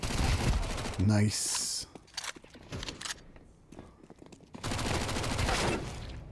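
Short bursts of MAC-10 submachine gun fire in a first-person shooter video game ring out between stretches of game noise, with a brief spoken remark in the middle.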